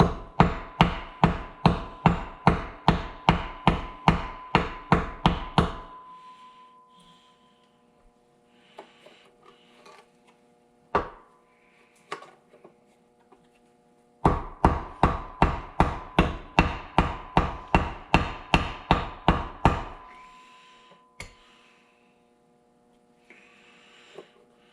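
Rapid, evenly spaced taps strike a metal engine part in two bursts of about a dozen hits each, separated by a quiet stretch with a few isolated knocks and a faint hum.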